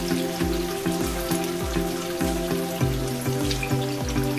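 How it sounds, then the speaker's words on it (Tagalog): Ginger fries in hot cooking oil with a loud, close, steady sizzle, and bursts of spattering crackle pulse through it at a regular beat with no talking. "Prito natin ang ginger."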